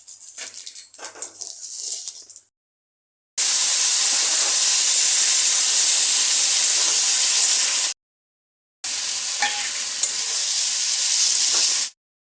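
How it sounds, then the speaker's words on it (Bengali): Whole cumin and bay leaves hit hot oil while a rohu fish curry is being made, giving a loud, steady broadband sizzle in two long bursts separated by a short silence, following a quieter stretch of mixed kitchen noise. "এবার ফোড়নে দিয়ে দিচ্ছি গোটা জিরে আর তেজপাতা"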